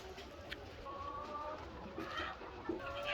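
Chickens in poultry houses on a farm, faint clucking and soft calls from a flock scattered through a quiet, distant ambience, no talk over it.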